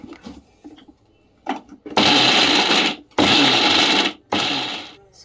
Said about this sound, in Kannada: ನಾನು ಸ್ವಲ್ಪ ಮಿಕ್ಸಿ ಕೆಲಸ ಮುಗಿಸ್ಕೊತಾ ಇದ್ದೀನಿ